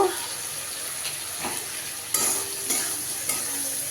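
Spices and potatoes sautéing in a pan for kanchkolar kofta, a steady close sizzle broken by several sharp scraping stirs of a utensil against the pan.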